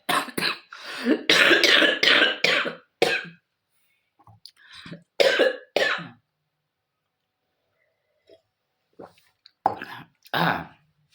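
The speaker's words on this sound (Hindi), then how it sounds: "खांसी छूट नहीं रहा" A person coughs repeatedly in hoarse fits, several bursts in a row, then a pause and a few more coughs, close to the mic.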